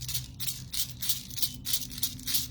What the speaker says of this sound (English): Did you hear how I play the rattle?